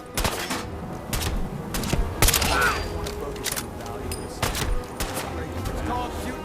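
Gunfire in Fallout 4, sharp repeated shots in irregular bursts across the clip, moderately loud, with a voice talking over parts of it.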